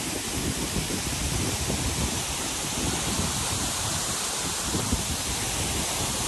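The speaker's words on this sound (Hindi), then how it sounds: "ऊपर से इसका जो झरने का तेज पानी आ रहा" Birthi Falls waterfall in the Munsyari hills, its water rushing down steadily as a dense, continuous roar close by, with no voices.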